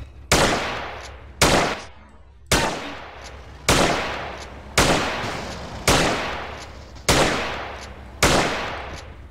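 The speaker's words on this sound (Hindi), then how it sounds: "पुलिस वाले भी गोली मार रहे हैं" Gunfire in GTA San Andreas as police shoot during a chase: eight loud, evenly spaced heavy shots about one second apart, each with a sharp crack and a long booming decay, near and clear.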